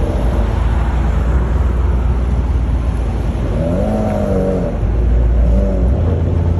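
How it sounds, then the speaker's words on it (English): A 2022 Chevrolet Corvette C8 Z06 with its clutch being feathered pulls away from a stop, its engine note rising in a steady, fairly close whine over constant road and wind noise. "as it gets to that stop, we're going to see that they're going to also be feathering that clutch as it's getting ready to take off"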